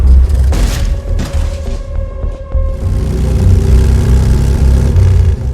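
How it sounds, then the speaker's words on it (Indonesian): A motorcycle in a film scene revs and pulls away, the engine rising in pitch after a loud boom-like hit, then fading into a continuing mid-range drone. "pergi dengan menggunakan motor milik almarhum sahabatnya"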